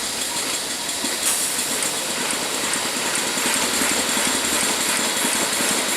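A steady, loud hiss of escaping steam from the steam brakes of a GWR 45xx Class steam locomotive fills the clip, broad and continuous, with a faint rhythmic chuffing beneath it.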